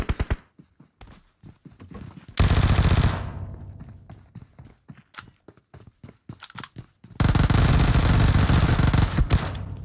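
Gunfire in the mobile battle royale game PUBG Mobile: two long, loud sustained bursts of automatic fire, with scattered rapid single shots and clicks in between.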